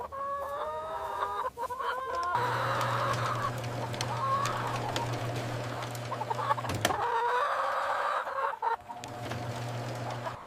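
Hens on a large indoor egg farm, a dense, steady chorus of clucking and squawks from many birds at moderate distance, with a low mechanical hum running underneath.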